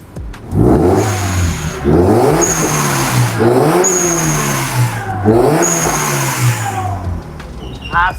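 A Toyota GT 86 fitted with a new aftermarket exhaust revs hard four times in a row. Each loud, close blip climbs and then falls back to idle between the pulls.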